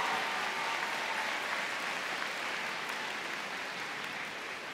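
A large audience applauds graduating high school seniors at a senior convocation, a dense, steady wash of many hands clapping at once, sustained and fairly loud throughout with no talking over it.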